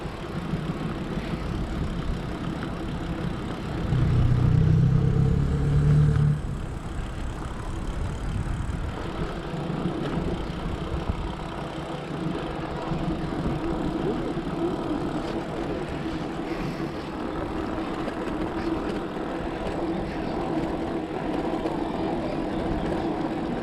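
A car engine drones steadily from inside the vehicle while driving on roads in the Kyiv region, with a low hum and road noise that swells briefly early on, and no talk.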